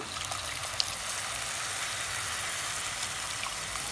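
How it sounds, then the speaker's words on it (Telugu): Tamarind broth poured into a pan for vada pulusu: a steady, continuous stream of liquid with a soft trickling wash throughout, with no voices. "పులుసు పోసుకుంటున్నాను"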